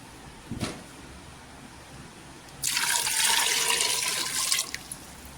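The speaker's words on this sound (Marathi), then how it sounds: "वरून पाणी टाकायचं" Water poured into a pressure cooker over taro (arbi) pieces in a home kitchen, a steady close splashing gush lasting about two seconds, preceded by a single brief knock.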